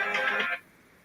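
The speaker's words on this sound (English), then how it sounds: "I think he's getting phone calls on the phone." An incoming call sets off a phone ringtone: one bright, tonal electronic ring lasting about half a second, fairly loud and close, then cutting off into quiet room tone.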